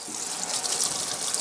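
Dried chillies being washed by hand under a running tap in a kitchen sink, a steady bright splashing gush of water that carries on evenly throughout.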